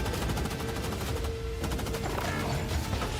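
Continuous loud gunfire and rapid bursts from a video game trailer, dense and unbroken across the whole stretch, mixed with music and effects.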